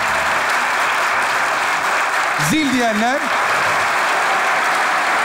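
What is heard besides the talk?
audience applause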